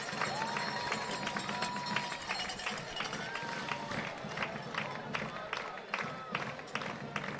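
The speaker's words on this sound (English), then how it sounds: "here come the Cougars to the standing cheering of their crowd" A home high school varsity football crowd stands and cheers as the Cougars run onto the field in a Broken Bow vs Ada game, a steady roar of voices with scattered claps under continuous commentary.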